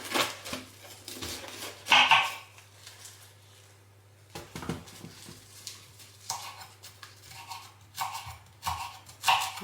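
A knife slices fresh, soft cabbage into thin strips on a board, with irregular crisp cutting strokes at close range, some louder chops, and short pauses between them.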